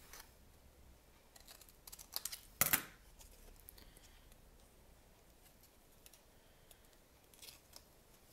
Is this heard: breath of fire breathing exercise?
no